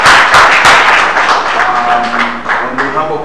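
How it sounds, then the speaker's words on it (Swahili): At the close of a scholarship training session, an audience gives loud, dense applause that holds throughout, with voices and cheers mixed in. "Tuwapigeni makofi tena"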